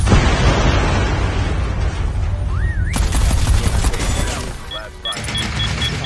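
Continuous loud bursts of gunfire and booming explosions from Call of Duty Mobile, dense and relentless, with a brief rising electronic whine in the middle.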